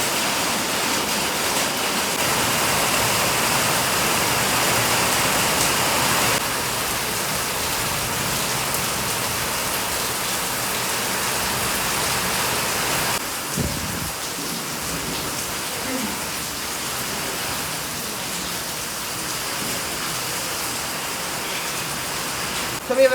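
Heavy rain falls steadily outside as a dense, even hiss that fills the whole stretch, with a brief thump partway through.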